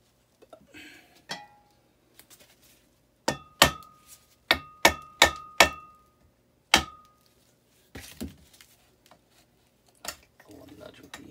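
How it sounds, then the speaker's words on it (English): A rubber mallet taps on parts of a 1956 Evinrude 30 hp Big Twin outboard motor, giving a quick cluster of sharp, close knocks in the middle, then a few scattered taps and faint handling noise. "A little nudge with the rubber mallet."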